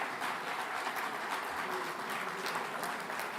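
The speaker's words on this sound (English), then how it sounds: "They all deserve a very big round of applause." An audience applauds steadily at a live conference in New York, the clapping dense and continuous for a few seconds at moderate distance with no voices breaking through.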